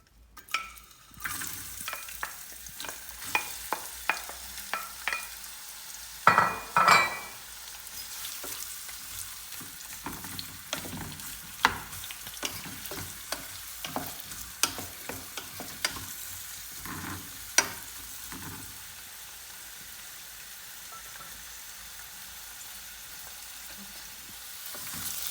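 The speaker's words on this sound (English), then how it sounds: "we're going to fry the onion, saute it, make it a bit softer" Onion frying and being sautéed in a pot, a soft continuous sizzle with frequent small crackles and occasional scraping stirs, quiet and close with no talking, settling to a steady hiss near the end.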